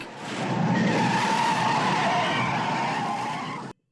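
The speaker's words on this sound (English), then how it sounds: "He has a crash." A car skids in a film scene, a loud sustained tire screech with engine roar lasting several seconds before cutting off abruptly, with no one talking.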